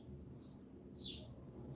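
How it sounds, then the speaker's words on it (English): Faint bird chirps drift in high and distant over a steady low room hum during a quiet painting session, a few short tweets scattered across the moment. "You have a lot of bird sounds."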